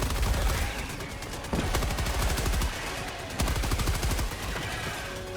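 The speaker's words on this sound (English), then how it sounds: "We're going to get a machine gun down to cover us. Machine gun sentry, I should say." A machine gun sentry in Helldivers 2 fires long rapid bursts of automatic gunfire, loud and close, with brief gaps between volleys amid a busy battle.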